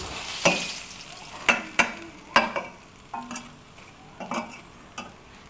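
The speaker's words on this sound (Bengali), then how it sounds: "তবে সব মাছগুলো একবারে ভেজে নিব।" Tengra fish frying together in a pan of oil, with a steady faint sizzle broken by a series of sharp, close clicks and scrapes from stirring or turning, and no talking.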